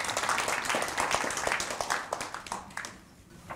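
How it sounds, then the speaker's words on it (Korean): An audience at a constitutional court policy seminar in Korea breaks into a brief burst of dense applause that tapers off into scattered claps within a few seconds. "여러분 뜨거운 박수 부탁드립니다"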